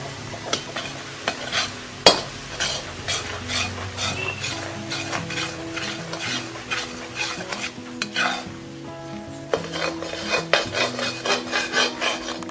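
Gram flour being stirred and roasted in ghee in a pan, a steady scraping and rasping with soft sizzle, close and continuous, with a few sharper clinks of the spoon against the pan.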